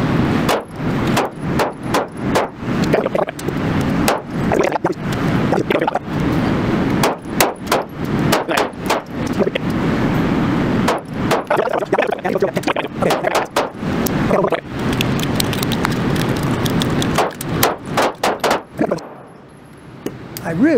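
Custom pistols, including a Bull Armory SAS 2 Air, fired rapidly at a target outdoors, with many loud sharp shots in quick strings over wind noise and voices talking between them.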